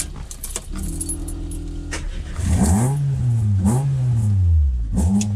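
A VW Caddy engine revs hard under throttle, its pitch rising and sweeping up and down in repeated surges after a lower steady idle, loud and close with no talk over it.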